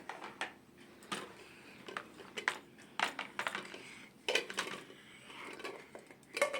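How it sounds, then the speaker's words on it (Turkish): A toy teapot lid drops with light clinks and clatters, a scatter of small, quiet taps spread across a calm room. "Kapağını düşürdüm"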